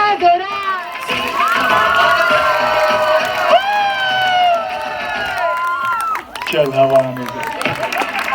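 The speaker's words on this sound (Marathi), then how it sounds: "टाळ्या जोरा." Crowd of children at a school annual day on a nature theme cheers and shouts with some applause, loud and sustained, with voices calling over it and a brief dip near the end.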